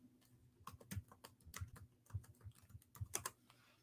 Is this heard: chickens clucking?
no